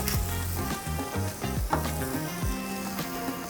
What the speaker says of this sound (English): Olive oil in a pan. Okay, hot cast iron skirt goes down.